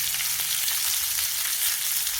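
Cauliflower frying in a pan, a dense, even sizzle heard up close and loud, continuous without pause, with no talking.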